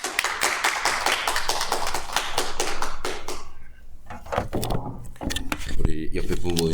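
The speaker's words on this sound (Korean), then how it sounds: "우리 큰 박수로 환영하겠습니다" Church congregation clapping together to welcome a pastor to the pulpit at a healing seminar, dense sustained applause that thins out, followed by scattered claps and a voice speaking.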